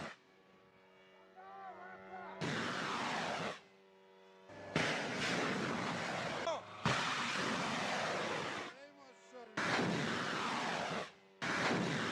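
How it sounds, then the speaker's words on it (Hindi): Ballistic missiles fired by Iran at Israel launch in a series of loud roaring bursts, four or five thick blasts of rushing noise broken by quieter tonal gaps. "आइए देखते हैं ईरान ने किस तरह से इजराइल पर मिसाइलें दागी।"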